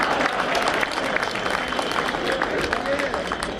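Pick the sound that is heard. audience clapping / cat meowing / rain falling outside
audience clapping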